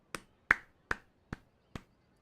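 Sparse, slow claps from a crowd in the game Genshin Impact: five crisp, separate claps about half a second apart, close and dry against near silence.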